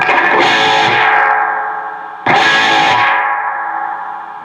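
An electric guitar through an EVH Iconic amp with the reverb set halfway plays two distorted strummed chords. Each chord rings out and decays into a hall-like reverb tail, loud and up close, with no talking.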